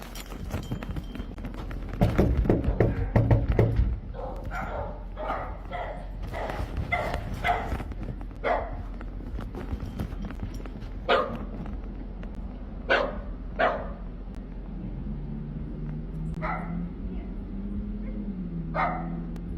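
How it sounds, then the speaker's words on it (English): Several dogs bark repeatedly in bursts with yips and whimpers, moderately close, while a person's voice is heard faintly in places under the barking. "Oh, these are your dogs too that are always barking?"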